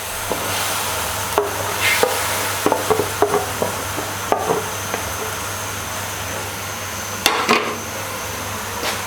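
Fried chicken drumsticks go into simmering gravy, bringing a steady bubbling hiss broken by a series of sharp clinks and knocks from the pot and spoon.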